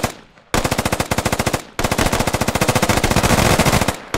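Long bursts of machine gun fire from the military shooter game Squad, loud and close, in rapid regular rounds with a brief pause between volleys.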